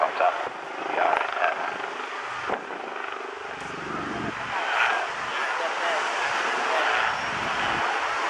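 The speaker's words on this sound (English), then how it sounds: "demonstrating the high maneuverability of this brand new helicopter" A brand-new helicopter's rotor and engine roar steadily during an aerobatic display at the 2019 Bournemouth Airshow, shifting in pitch and intensity as it maneuvers, with wind buffeting throughout.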